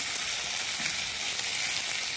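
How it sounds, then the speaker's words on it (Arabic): Rice crackling while stirred in hot fat for lentil-and-rice koshari, a dense even sizzle heard close and alone. "نقلب فيه كده اهو لحد ما ايه ما يطقطق."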